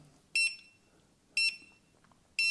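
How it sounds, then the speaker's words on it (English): Electromagnetic radiation tester VT-ER2 sounding its alarm: three short, shrill electronic beeps spaced about a second apart, close and clear over a quiet background. "It's starting to show an alarm."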